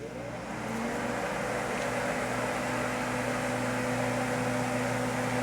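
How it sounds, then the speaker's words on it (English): Kitchen exhaust fan running over a stove while cooking, a steady whooshing hum with a low motor drone that starts and holds evenly throughout. "let me turn the fan on for a bit"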